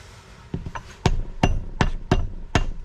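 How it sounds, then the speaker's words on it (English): Gear shaft being tapped back and forth into a Willys Jeep Dana 18 transfer case during reassembly, six sharp, evenly spaced metallic knocks, close and fairly loud over a quiet background. "Just give it some back and forth taps."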